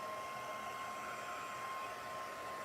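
A hair dryer blows steadily and close on a handmade craft card, a continuous even whoosh with a faint whine, unbroken for the whole stretch with no talking.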